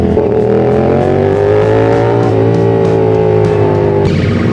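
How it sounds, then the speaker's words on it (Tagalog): Motorcycle engine revving loudly in a tunnel at night on the Marilaque highway, with rich, rising and falling harmonic tones, echoing in the enclosed space, steady and continuous. "ng tunog ng motor mo"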